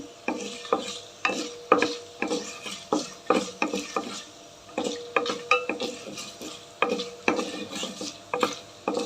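A spatula scrapes and knocks against a pan in a steady stirring rhythm while ingredients fry with a soft sizzle underneath, close and continuous with no talking.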